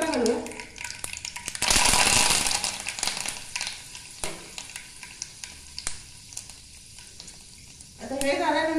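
Curry leaves dropped into hot oil for a Konkani okra salad, a sudden loud burst of sizzling and spattering that fades into crackles, with a voice talking briefly at the start and end.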